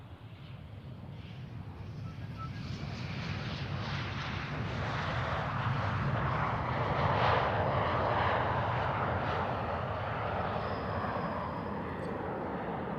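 An airliner lands and brakes at Amsterdam Schiphol Airport, a broad, steady jet roar that swells and holds loud for several seconds, heard from nearby on the spotting grounds without any talk.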